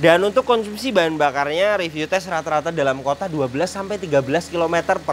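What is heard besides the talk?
No distinct noise like a dog, phone or traffic.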